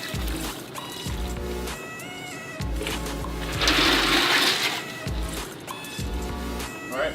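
Ice water poured into a turkey brine, a steady splashing pour building to a louder broadband rush midway, alone with no talk, amid low background hum and rhythmic thumps.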